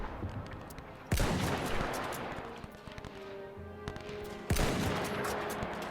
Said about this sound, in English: he switched back to rifle fire